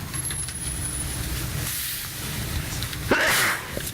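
A single sharp sneeze bursts out near the end of a school board meeting over a steady background hum of room noise.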